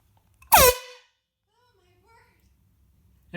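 A single loud, close air horn blast bursts out for about half a second and stops abruptly, leaving near silence with a faint voice murmuring briefly afterward.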